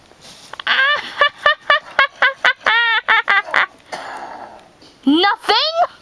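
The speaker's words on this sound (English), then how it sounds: "A chicken just crawled in here." A string of bird calls in Minecraft Pocket Edition, read here as a chicken, comes as rapid, loud, close, rising squawks and clucks in quick bursts with a pause before a final pair, and no talking.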